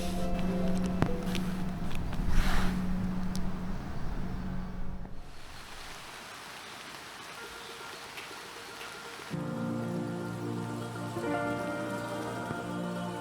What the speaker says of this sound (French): C'est interminable cette pluie, hein.